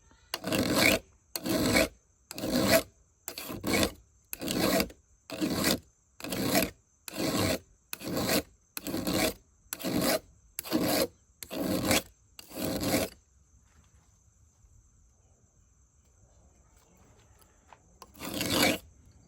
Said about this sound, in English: Taking these rakers down and sharpening these